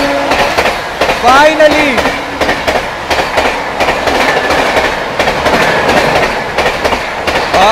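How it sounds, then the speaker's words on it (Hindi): The Bhubaneswar–New Delhi Duronto Express rushes past at around 130 km/h, a loud, close roar of rolling wagons with rapid clickety-clack wheel beats and a brief squeal, while someone speaks over it. "भुवनेश्वर नई दिल्ली दुरंतो एक्सप्रेस फ्लैट 130 पे आती हुई।"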